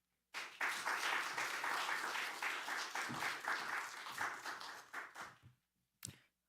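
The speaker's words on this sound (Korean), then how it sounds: "환영하의 박수를 하시면 좋겠습니다." A church congregation at an autumn revival Sunday service bursts into applause welcoming the pastor to the pulpit, a dense burst of clapping that tapers off, followed by a single late clap.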